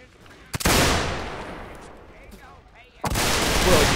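Musket volleys from reenactment soldiers in a North and South line battle: two loud, close blasts of massed black-powder fire, each trailing off into a long rolling echo, with faint voices between.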